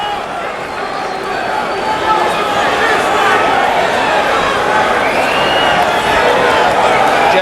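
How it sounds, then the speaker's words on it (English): A packed arena crowd roars at the Bank United Center before a 2008 Kimbo versus Tank MMA fight, a dense, steady wall of cheering and chatter that holds loud throughout. "Wait for the eruption of the crowd here at the Bank United Center."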